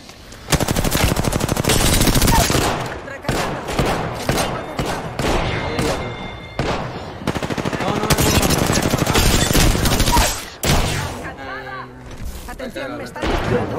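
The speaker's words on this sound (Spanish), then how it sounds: "Estoy recibiendo disparos." Rapid automatic gunfire in the video game Apex Legends rattles loud and close in long sustained bursts, broken by brief pauses, with a voice talking over the shooting toward the end.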